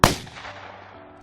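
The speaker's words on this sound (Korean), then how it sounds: "20일 밤 갑작스런 총성이 광주역에 울렸고" A single sharp gunshot fired at night near a city railway station square in Gwangju during the 1980 uprising, hitting at once and then trailing off into a long, fading reverberant echo, heard alone.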